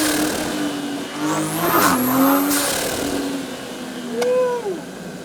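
A Toyota Supra fitted with a cold air intake revs up in a couple of rising and falling engine sweeps, loud and fairly close, with a shorter blip near the end and faint voices in the background.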